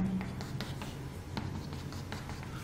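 Writing out a physics expression on a board during a magnetic force lesson: a series of close, light scratchy strokes and taps in an uneven rhythm, with no talk.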